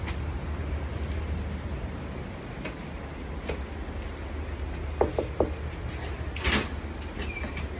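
Three quick, sharp knocks on a door come in a tight burst over steady background noise, followed shortly by a louder thud.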